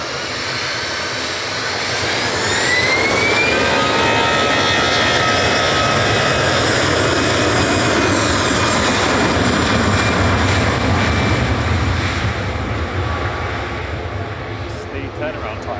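Aer Lingus jet engines roar loudly at an airport, swelling after the first couple of seconds into a sustained whine with a slowly shifting high tone. Voices are heard over it.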